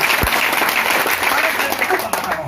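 A church congregation at a groundbreaking ceremony for a new GKII church building in Manduamas claps in a dense, steady burst of applause lasting a couple of seconds.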